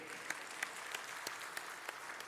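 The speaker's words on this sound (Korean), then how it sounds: "박수 타이밍 잡기가 참 힘들었네요" A congregation applauds after a worship song at a Sunday afternoon church service, a steady, fairly distant wash of clapping with a few sharper claps standing out.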